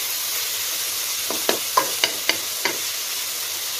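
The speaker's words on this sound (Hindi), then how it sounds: "ये देखिए अच्छे से ये लोग फ्राई हो रहे हैं।" Chicken pieces frying in a pan, with a steady sizzling hiss and a handful of soft stirring scrapes near the middle; no voices.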